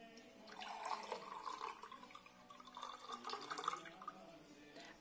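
Cold water poured into a 250 ml glass for making gelatin, a steady, gentle liquid trickle and gurgle lasting several seconds, faint and close, with no voices.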